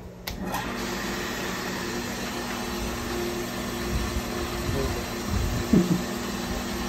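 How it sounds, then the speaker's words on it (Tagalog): A welding machine runs with a steady, continuous electrical hum and drone during the repair of a punctured pressure tank, holding an even level throughout with a few brief louder bumps near the end and no talk over it. "Welding machine eh. Welding machine."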